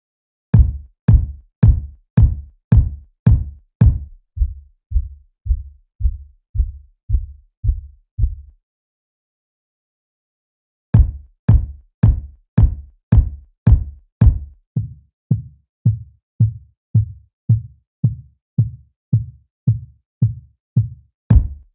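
Deep, punchy electronic trap kick drums being shaped with EQ hit in a steady rhythm, first bright and clicky, then duller and bassier, with a short silent gap midway.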